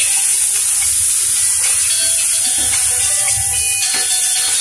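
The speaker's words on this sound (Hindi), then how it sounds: "अब इसमें हम थोड़ा सा विनेगर डालेंगे" White vinegar hitting hot oil in a pan while making Schezwan chutney, giving a loud, steady sizzle and hiss that holds evenly throughout with no talking.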